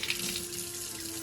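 Tap water runs steadily into a scoop or sink for pancake batter, a soft continuous splashing stream heard alone and close.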